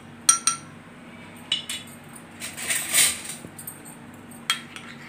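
A spoon clinks against a bowl while custard powder is mixed into a smooth paste, with a few sharp, separate taps and a brief scraping swirl near the middle, all close and fairly quiet.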